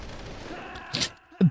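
PSG-1 sniper rifle fire in Metal Gear Solid: The Twin Snakes, a single sharp shot near the end preceded by a fainter burst, over quiet game ambience.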